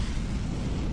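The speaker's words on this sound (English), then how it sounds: "Something just blew up majorly." A deep, rumbling explosion in the video game From the Depths fills a second with dense low-end roar and broadband crackle, loud and sustained without a sharp onset.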